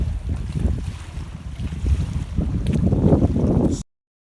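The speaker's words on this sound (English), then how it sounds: "Very windy though, coming right off the lake" Strong wind blows off a lake on a chilly spring evening at a park, a steady rough buffeting rush over the microphone with low rumbling gusts, loud and continuous before cutting off abruptly.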